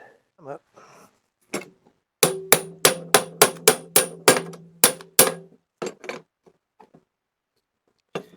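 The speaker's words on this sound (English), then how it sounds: "Find a hammer and knock him out." A hammer strikes a metal part on a 1960s ironing board about a dozen times in a quick, steady series of sharp clanging blows, close and loud, with a few scattered knocks around them.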